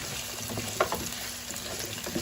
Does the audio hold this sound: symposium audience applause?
no